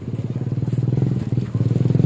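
A new motorcycle runs close by with a steady, rapid putter that dips briefly in the middle and then picks up again.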